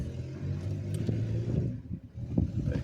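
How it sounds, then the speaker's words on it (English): A motor vehicle rumbles past nearby, its engine droning loudly with a brief revving surge toward the end; no voices. "That's a noisy vehicle."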